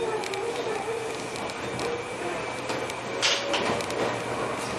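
Rumbling train interior noise as a Jomo Electric Railway train departs Chuo-Maebashi, steady low drone with rattles and a brief hiss, heard from on board.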